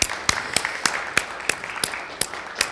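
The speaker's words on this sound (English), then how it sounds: "A round of applause." Scattered applause from a small audience after a panel presentation, about ten distinct claps ringing out in a steady, sparse rhythm, fairly close and moderately loud with no talking over it.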